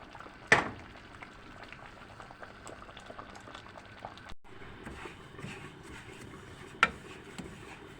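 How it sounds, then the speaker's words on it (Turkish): Sesame seeds dry-roasting in a pan with no oil, a faint steady crackling hiss with two sharp clicks or knocks standing out near and apart. "Evet susamımı kavuruyorum arkadaşlar. Hiç yağ koymadım."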